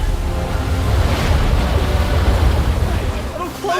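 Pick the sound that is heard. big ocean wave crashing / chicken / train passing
big ocean wave crashing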